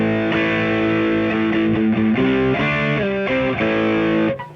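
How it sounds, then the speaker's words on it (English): Electric guitar played through the overdrive setting of a TC Electronic Nova System processor, an overloaded clean-channel drive, giving a sustained, harmonically rich distorted line of changing notes that rings steadily and then cuts off abruptly near the end. "Now we've got overdrive as well as an alternative, which is more sort of an overloading of a clean channel rather than a synthetic distortion."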